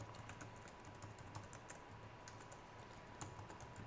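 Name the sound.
typing code on a computer keyboard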